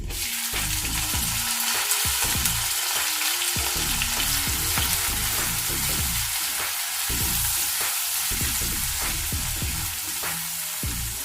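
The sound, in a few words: chopped onions frying in a pan with garlic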